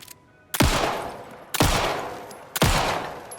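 Three loud, sharp gunshots from the video game Alan Wake 2 ring out about a second apart, each with a sudden attack and a long fading reverberant tail, heard alone without speech.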